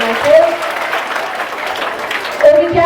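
A group at a Bharatanatyam dance workshop applauds, with a fairly even spread of many hands clapping under a continuing voice and some tonal background sound.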